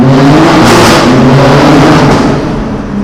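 BMW G80 M3 engine with a PSI midpipe exhaust revving loudly and close, a steady roaring drone that holds strong for most of three seconds before easing off slightly at the end.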